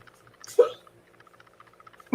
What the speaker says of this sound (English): I can still hear him hiccuping